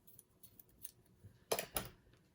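Scissors snipping through a bundle of yarn for a tassel, two quick close crisp cuts after faint handling noises, quiet overall.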